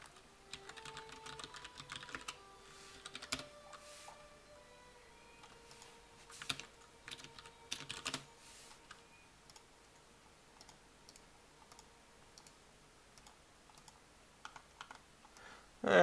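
Fast bursts of typing on a computer keyboard with its keycaps removed, the bare switches clicking close and fairly quiet, with a few faint tonal sounds early on and no voices.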